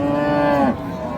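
A single cow gives a loud, close, drawn-out moo that slides down in pitch at a busy cattle market in Dinajpur, with general crowd noise behind it.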